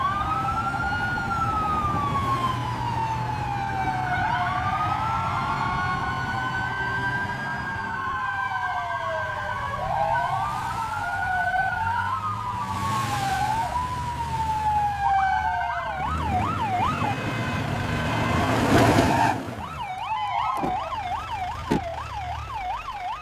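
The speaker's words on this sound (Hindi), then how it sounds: "सड़क पर सायरनों की गूंज फैल गई" Wailing sirens rise and fall continuously, overlapping and shifting pitch, with a faster yelping siren toward the end over street traffic noise.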